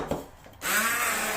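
A blender whizzes ground seeds into a gluten-free flour mix, starting abruptly after a moment of quieter kitchen sound and then running as a steady, loud, close whir.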